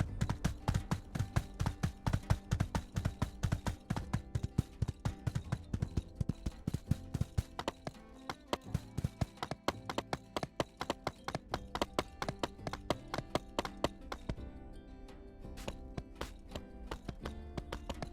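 Quick, regular hoofbeats of a horse galloping across ground in My Time at Sandrock, soft but continuous clip-clop running the whole stretch, slightly busier at the start and easing a little toward the end, with no voices.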